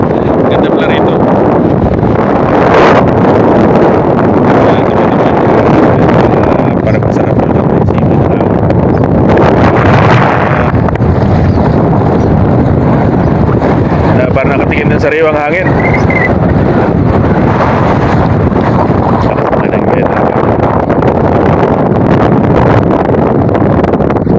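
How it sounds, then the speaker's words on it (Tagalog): Heavy wind buffets the microphone in a constant loud roar, with a voice speaking faintly beneath it. "Lakas ng hangin."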